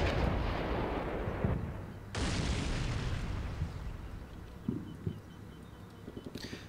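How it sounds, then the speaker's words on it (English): Airburst HE rounds strike around a tank crew in a combat simulation game, heavy booms with rumbling decay followed by a few sharper, fainter cracks and pops near the end. "So you can tell they're firing airburst HE rounds to get the crew there"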